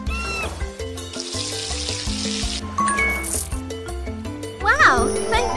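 Water splashes and runs in a dress-up video game as a face is rinsed after a face mask, a continuous steady wash of sound layered over bright game music and chimes, with a voice speaking over it.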